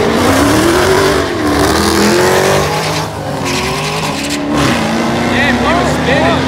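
A Dodge Hellcat drag racing against a Corvette with its wheels spinning: loud roaring engines and tire squeal close by, under constant excited crowd talk and shouting.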